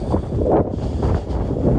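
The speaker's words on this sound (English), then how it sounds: "it's really windy out here" Wind buffets the microphone in rough, continuous gusts, a loud close rumble with no voices.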